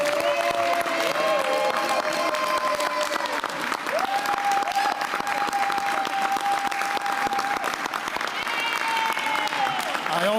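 Audience applause with some cheering for a New York City council member, the Finance Committee chair, at a budget announcement; sustained clapping from a crowd, with a voice speaking over it.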